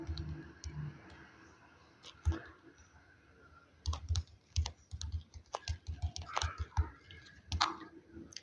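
Keys on a computer keyboard are typed in short bursts of clicks, close and fairly quiet, with a pause early on before denser, irregular tapping through the rest.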